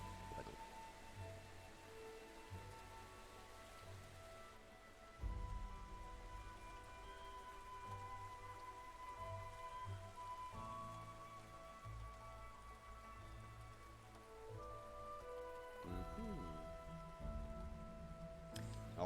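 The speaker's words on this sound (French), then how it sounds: "petite ambiance de pluie" Light rain falls outdoors at sunrise, a faint, steady patter with soft drops on surfaces and a dull background hiss, with no voices.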